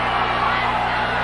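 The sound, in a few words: wrestling crowd hollering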